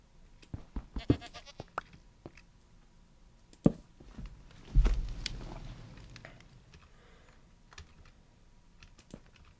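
Goats bleat in the Minecraft video game amid frequent keyboard typing clicks; a louder bleat surfaces midway, with sparse taps before and after.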